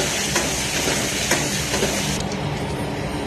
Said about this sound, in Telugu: కరివేపాకు వేసి బాగా ఫ్రై చేసుకోండి